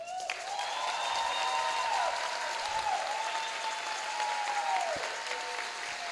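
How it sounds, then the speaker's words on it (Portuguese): Sustained applause from an audience at a university inauguration ceremony, steady and continuous throughout, with faint tonal cheering or voices riding above the clapping. "precisa da nossa salva de palmas também"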